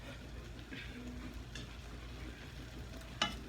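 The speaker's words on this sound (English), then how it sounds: "I let it keep frying in there" Corn fries in a pan on a home stove, a faint steady sizzle with soft stirring scrapes and a sharp clink near the end, quiet and continuous.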